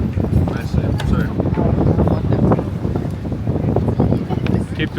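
Wind buffets the microphone with steady low rumble and gusty noise in Dubrovnik, while people talk and laugh nearby.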